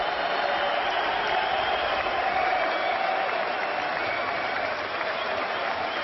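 A large British crowd applauds inside the Royal Albert Hall at a mixed martial arts fight, a dense, loud, unbroken roar of clapping throughout.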